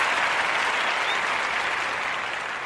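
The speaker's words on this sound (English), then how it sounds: "We gotta keep the round of applause going on that one" A round of applause for a remark on game 7, a steady dense wash of clapping from a crowd, loud and continuous throughout with no talk over it.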